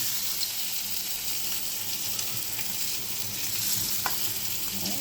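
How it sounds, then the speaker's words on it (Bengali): Ginger and garlic fry in oil, giving a continuous, even sizzle at moderate loudness, with faint clicks from the pan and no voices. "এবার আদা রসুনটা একটুখানি দিয়ে দেবো। এই তেলেতেই দিয়ে দেবো।"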